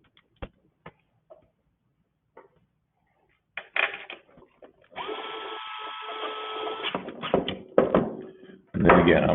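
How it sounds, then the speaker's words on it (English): Small DeWalt power tool driving bolts tight on a two-stroke engine during a rebuild, with a few sparse knocks and clicks, then sustained whirring bursts under steady nearby talk, ending with a loud final burst. "it's got some good torque on this little DeWalt tool"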